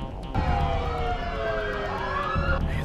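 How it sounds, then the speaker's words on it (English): Emergency vehicle sirens wail continuously outside a house in the woods, with pitch sweeping slowly downward and back over a rumbling background, loud and fairly near throughout. "I hear the fucking sirens"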